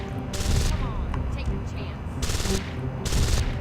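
Gunfire in the video game Deus Ex: Invisible War comes in three short rattling bursts of rapid shots under busy game sound, with people talking over the action.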